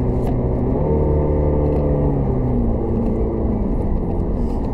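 An Alfa Romeo in manual paddle mode downshifting, its engine note stepping through rising and falling tones at a steady close drone, with faint clicks over the running car.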